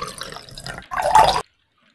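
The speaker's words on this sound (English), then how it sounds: "wet the cloth in A and B with water" Water splashes and pours as a cloth is wetted in a tray for a school science activity, a short burst of liquid sound following quieter handling, then silence.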